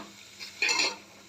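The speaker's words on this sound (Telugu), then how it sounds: "శనగలు పోపేస్తున్నా ఈవినింగ్ స్నాక్స్ కోసం" A spoon stirs chickpeas being tempered in a hot pan for an evening snack, one short, close scrape of metal against the pan over faint sizzling.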